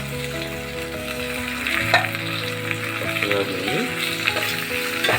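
Coriander and mint frying and being stirred in a pan for chicken dum biryani, a steady close sizzle with stirring clinks, under a brief spoken voice and soft tonal background music.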